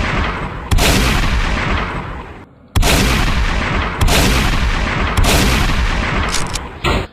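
Shotgun blasts in the zombie shooter game Vanish Rain, loud booming shots in quick succession with short reload gaps between them.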